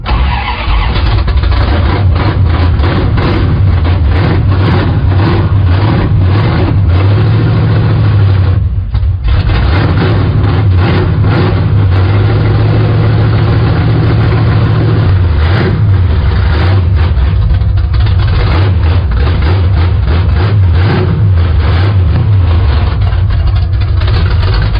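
The Project Scimp car's engine cranks and fires, then runs loud and rough at close range, its heavy exhaust rumble rising and falling with revs for the full stretch and briefly dipping midway.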